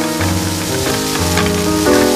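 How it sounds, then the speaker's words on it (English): Chopped onion and cauliflower sizzle steadily in a hot pan, a constant close frying crackle with a faint tonal hum running underneath. "Your pan is hot, so now you're gonna add your onion and your cauliflower"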